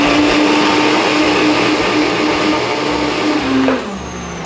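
An electric blender grinds kimchi seasoning of radish, onion and pear with fish sauce, a loud steady whirring that runs close and constant, then winds down near the end.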